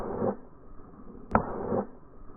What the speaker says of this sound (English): you hear that real nice scraping